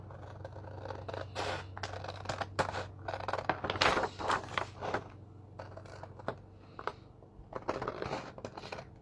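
Scissors snipping through paper along a pencil line, close and fairly quiet, in a series of short irregular cuts and crinkles over a low steady background hum.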